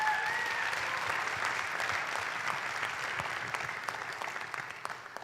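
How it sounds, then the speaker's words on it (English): An audience applauds a high school jazz ensemble at a school jazz night, a dense, steady clapping that fills the room and slowly thins toward the end. "Let's give them a round of applause."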